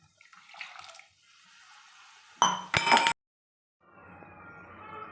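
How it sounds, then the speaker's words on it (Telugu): A glass of water going into a pan of chaat: a faint early trickle, then a short loud burst of splashing and glassy clinks, a sudden silence, and a low bubbling simmer afterward. "Glass water."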